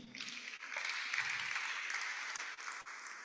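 Audience applause at a 100th inaugural lecture ceremony, greeting the ceremonial committee: a steady, fairly faint wash of clapping that holds for about three seconds with brief dips.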